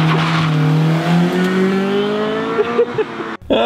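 A Honda car with a loud side exit exhaust revs hard, engine pitch climbing in a long sweep before a few sharp blips and a sudden cutoff, loud and close.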